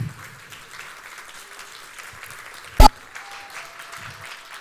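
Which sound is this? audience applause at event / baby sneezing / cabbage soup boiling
audience applause at event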